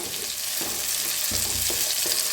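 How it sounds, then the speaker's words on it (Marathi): Chopped tomato frying with onion in a pan: a steady close sizzle with soft stirring scrapes at intervals, continuous throughout, no talking. "त्याच्यातच टाकूया टमाटर एक टमाटर कापून घेतलं होतं त्याला मी भाजूया छान असं"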